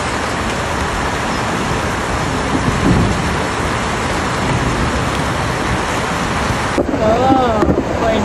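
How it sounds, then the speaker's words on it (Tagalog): Heavy rain pours down in a dense, loud, continuous roar of drops close by, steady throughout, with a faint rumble and some brief sounds near the end. "Malakas yung ulan."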